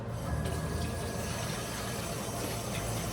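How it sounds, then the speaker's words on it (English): Tap water runs steadily over hands being rinsed at a sink while handling raw meat, a continuous broadband splash that stays even and close throughout with no talk. "I'm gonna rinse my hands off here"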